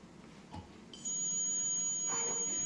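A steady high-pitched electronic buzzer from an IoT temperature alarm comes on suddenly and keeps sounding without a break, fairly faint against a quiet room.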